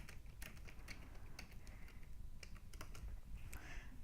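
Computer keyboard being typed on in quick, irregular bursts of light clicking keystrokes, soft and close, with no voices.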